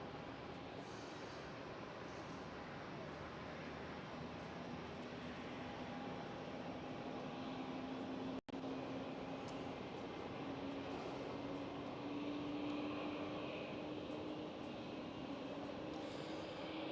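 Aircraft engines at Schiphol airport, Amsterdam, give a steady broadband roar with a slowly rising low whine, fairly distant and continuous, with no talking.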